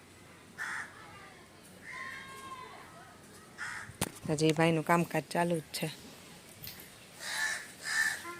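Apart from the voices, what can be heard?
crows cawing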